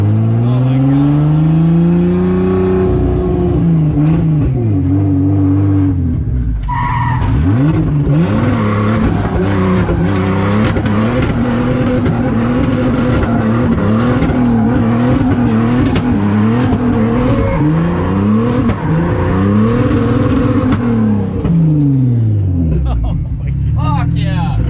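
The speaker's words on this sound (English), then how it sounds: "The cut is perfect. Like pop, pop, pop, pop, pop, pop" A 2.7-liter twin-turbo Audi A4 drift car revs hard on a dyno, its loud engine sweeping up and down repeatedly and hitting the rev limiter between pulls, with people talking over it.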